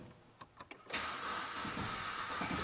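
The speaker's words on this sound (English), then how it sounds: "Engine like hesitates, but no start." A BMW with a suspected timing chain fault cranks after a push of the start button: a few short clicks, then a steady whirring crank that runs on without the engine catching, close and fairly loud.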